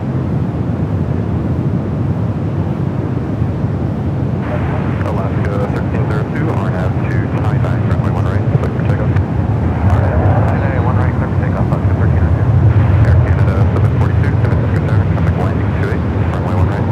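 A Lufthansa Boeing 747 rolls along a taxiway at San Francisco airport, its engines giving a loud, continuous rumble that swells slightly toward the end, with wind buffeting the microphone.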